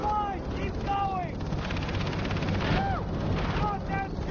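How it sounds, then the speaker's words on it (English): A helicopter gunship in the Far Cry 3 video game rumbles with dense, continuous gunfire and blasts, forming a loud, steady wash of combat noise with sweeping tonal whooshes over it. "No, no, no, it's a gun chopper!"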